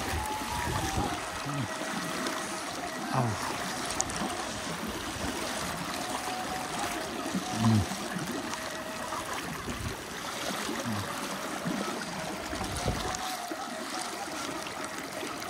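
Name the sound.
flood water flowing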